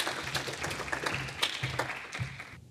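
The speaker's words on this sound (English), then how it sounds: "So a great round of applause." A conference audience at EuroPython 2024 gives a faint round of applause for a sponsor. The scattered hand claps blend into a soft, continuous patter that lasts a few seconds before fading.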